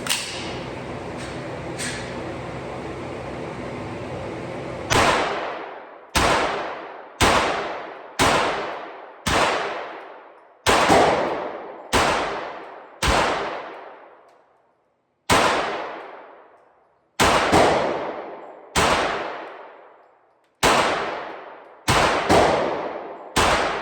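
Springfield Kuna firearm firing rounds: about fourteen sharp, loud shots at uneven intervals, each followed by a brief ringing decay, after a steady hiss in the opening seconds.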